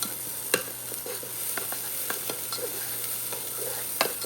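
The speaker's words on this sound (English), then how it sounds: "that rice been cooking for about 5 minutes. I just want to make sure all the rice gets toasted" Rice toasts in a hot pan with a steady, soft sizzle throughout, while a utensil stirs it and scrapes the pan in intermittent light clicks.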